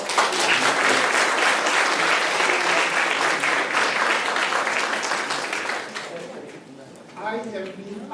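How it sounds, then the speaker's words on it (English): Audience applause at a justice and reparations event, a full sustained burst of clapping that slowly thins out, giving way to a voice speaking at the end. "let's give another round of applause"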